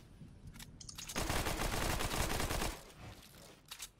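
A burst of rapid automatic gunfire in a shooter video game, a dense rattling volley of about a second and a half, with fainter isolated shots before and after.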